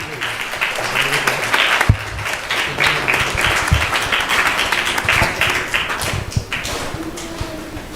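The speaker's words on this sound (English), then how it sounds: "Please give them a big round of applause." A temple audience applauds a family during an evening arti, steady and fairly loud clapping throughout with occasional sharper claps and faint voices underneath.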